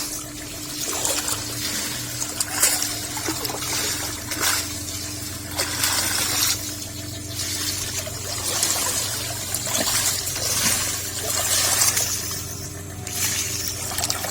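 Water trickles and splashes steadily as apple snails are rinsed by hand, with a continuous close pouring and sloshing sound and a low mechanical hum underneath.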